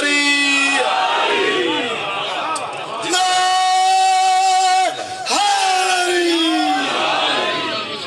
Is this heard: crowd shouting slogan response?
yes